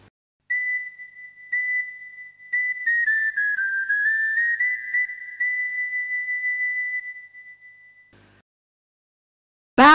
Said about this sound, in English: That's the sound of the kid's pipe calling for help.